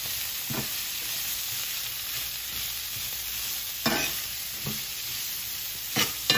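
Salmon shallow-frying in oil over medium heat for Jamaican escovitch, giving a steady close sizzle and hiss with a few louder spatters and pops scattered throughout.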